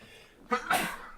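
A single close sneeze, a short intake followed by a sharp burst of breath.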